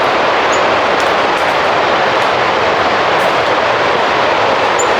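Water from a lake spillway on the Duck River lower trail pours down in a steady, loud broadband roar, constant and unbroken throughout with no talk over it.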